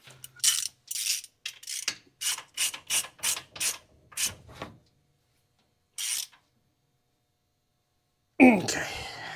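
Socket wrench ratcheting on the engine of a 327, a quick run of about ten sharp clicks in steady rhythm, followed by a single click after a pause and then a louder burst of rough metallic handling.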